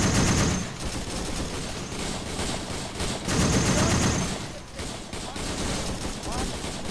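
.50 caliber machine gun fire in the video game ARMA 3 rattles in dense, sustained bursts of rapid shots with heavy low thumps, loud and continuous, with voices talking underneath.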